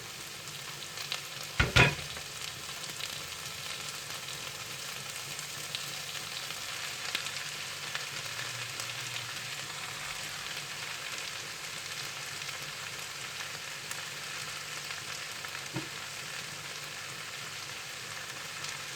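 Spaghetti with chicken sizzles and frying steadily in a pan, with a couple of sharp utensil knocks early on and faint scraping of a stir, continuous and fairly close with no talking.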